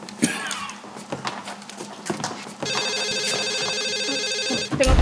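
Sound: telephone ringing

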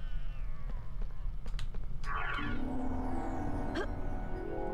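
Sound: cat meowing in the Harry Potter PS1 video game

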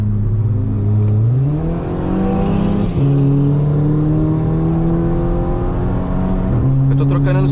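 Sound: tuned Volkswagen Jetta TSI accelerating on highway

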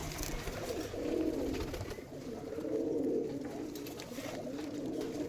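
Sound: pigeons cooing

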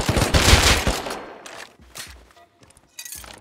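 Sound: gunfire in video game Rust

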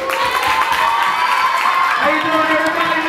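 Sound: talent show audience applause and cheering

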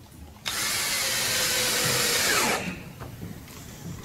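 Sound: power drill driving a screw into a bridge

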